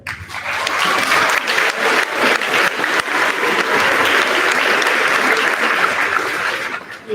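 Audience applause at an 8th grade awards ceremony, steady and dense from a full room for the whole stretch, loud and close with no talk over it.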